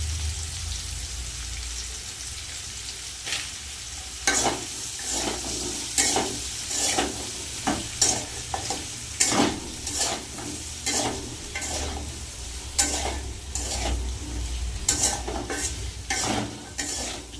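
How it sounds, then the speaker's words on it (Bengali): Spices sizzling in a pan under a constant hiss, with regular spoon-scraping stirs breaking through in distinct bursts every second or two, no voices. "একটু মশলাটা ভাজা ভাজা হয়ে গেলে"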